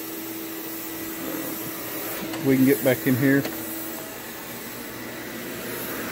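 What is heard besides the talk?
vacuum cleaner with straight wand in janitorial account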